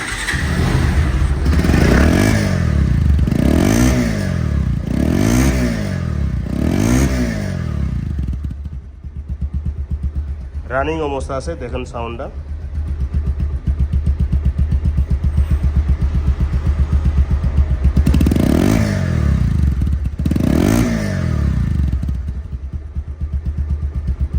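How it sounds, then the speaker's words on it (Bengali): A Bajaj Pulsar double-disc ABS motorcycle with about 1,500–2,000 km on it idles and is revved close up, with throbbing engine pulses, a short pause, then steady running again. "এখন সাউন্ড কোয়ালিটি শোনাবো যে দেড় হাজার কিলো চলা বা দুই হাজার কিলো চলা সাউন্ড কেমন হয় দেখেন"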